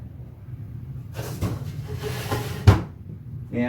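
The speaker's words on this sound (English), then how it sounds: "So we'll pull out the drawers." Wooden drawers slide out of a side table, giving a long scraping, hissing rumble with a sharper knock near the end as one comes free, close and fairly loud without talk.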